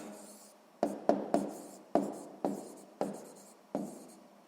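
Pen strokes on paper while drawing and labelling a pie chart for a sixth-grade maths exercise: about seven short, close scratching bursts in an irregular rhythm over a quiet room, with no talking.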